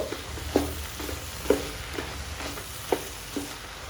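Ground masala with turmeric and green chillies fries alongside chickpeas in a pan, a soft continuous sizzle broken by several sharp scraping knocks of a spoon stirring, close and without talk.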